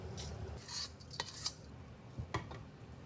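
Rice, sausage and mushrooms are scraped from an iron wok into a rice cooker, with a metal spatula clinking and rasping against the pan in a few sharp knocks and scrapes, close up, no talking.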